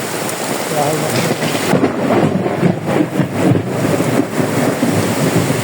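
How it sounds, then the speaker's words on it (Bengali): Heavy rain pours steadily on a road with rumbles of thunder rolling underneath, a dense, continuous roar that stays loud and close throughout. "দেখছেন কত বৃষ্টি হইতেছে"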